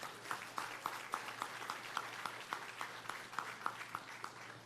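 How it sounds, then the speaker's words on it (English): A town hall audience applauds in sparse, rhythmic claps, fairly faint and distant, a steady patter of individual hand claps with a low hum underneath. "let's give them all a round of applause"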